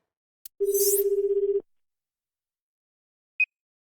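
A phone call placed in the video game AI: The Somnium Files: a brief click, then a steady electronic tone of about one second, then silence broken by a short high beep.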